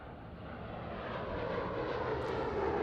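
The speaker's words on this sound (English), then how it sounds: "This aircraft, the only compliant jet-based dispersant system in the world, showcasing its amazing capabilities." Steady, loud roar of a jet aircraft fitted with a dispersant spraying system, flying a display at Farnborough International Airshow 2016, with a broadband engine rush that swells slightly as it passes.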